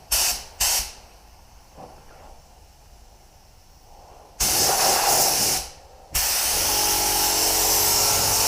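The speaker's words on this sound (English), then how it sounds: "So I think I'm going to start off by blowing it down, tack ragging it, and then I'll wait for that compressor to build back up again." Compressed air from a compressor blows down a surface: two brief hissing puffs, a quieter pause, then a long loud blast that stops briefly and resumes as a steady roaring hiss.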